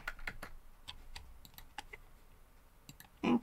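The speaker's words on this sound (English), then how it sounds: "I'm just gonna type in that Dreamland." Keystrokes on a computer keyboard while entering a doll listing on eBay, a quick irregular run of close, crisp clicks with short pauses, ending in a louder burst of clatter.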